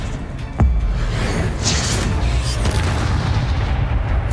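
Spell blasts boom during Hogwarts Legacy gameplay: a sharp impact followed by a dense, rumbling wash of magical bursts and crackles, loud and sustained, with brief whooshes layered on top.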